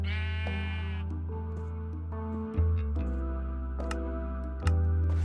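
Video-game sheep bleat several times in a row during shearing, sharp nasal cries near and clear, with a few soft clicks between them and no talk.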